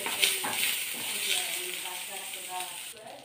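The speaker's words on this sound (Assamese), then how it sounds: "এতিয়া পিঁয়াজখিনি অলপ ভাজি ল'ম" Onions frying in hot oil with whole cumin seeds, a steady close sizzle with light stirring clinks, while a voice talks over it.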